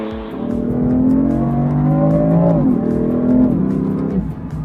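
2016 BMW M3 with its inline-six engine and 7-speed DCT accelerating, a loud close engine note climbing steadily in pitch, dipping briefly at an automatic gear change, then pulling up again before easing off; no talking.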